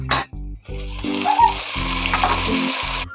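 Onions frying in a pan for chicken biryani, a steady bright sizzle running throughout, broken by low rhythmic thumps and clatters of stirring, loud and close with no talking.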